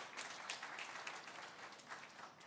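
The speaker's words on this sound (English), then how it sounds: "let us have a big applause for the audience who have been sitting throughout." Soft, distant audience applause fills a seminar hall, a continuous patter of many hands that stays fairly even throughout.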